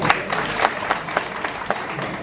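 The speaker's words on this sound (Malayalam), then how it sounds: "ഒരു അടിപൊളി കയ്യടി അടിച്ച" Audience in a seminar hall giving a short round of applause, with a rhythmic cluster of claps pulsing at a steady beat at moderate loudness.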